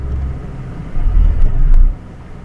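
An old £400 car on its first test drive, a low engine rumble close by that swells for about a second as it pulls away, then drops back to a quieter idle.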